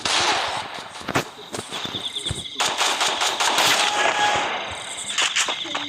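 Rapid gunfire from a Desert Eagle pistol in a shooter video game comes in quick clusters of sharp cracks, loud and close, with brief pauses between bursts.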